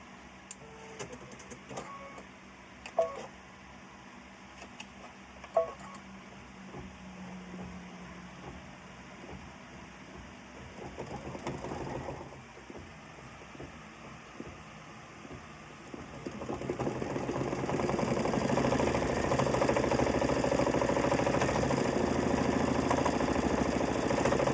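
An embroidery machine stitches burnt orange thread into a hooped project. Scattered clicks and taps come first, then from about 16 seconds the motor settles into a steady, louder mechanical whirring hum.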